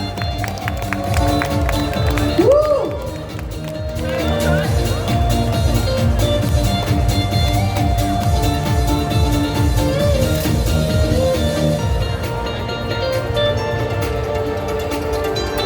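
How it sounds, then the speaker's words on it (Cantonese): A loud crowd claps and cheers for a contestant at a cosplay contest awards ceremony at the 27th Hong Kong Ani-Com & Games festival, a sustained wash of applause with an announcer's excited voice and background music. "哇！ 啲掌聲啦"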